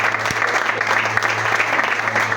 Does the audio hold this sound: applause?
yes